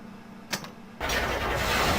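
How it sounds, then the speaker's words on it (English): An engine starts up in the video game The Black Mirror, a brief clack followed by a sudden, steady broadband roar that keeps running loud and close. "The main engine is running now."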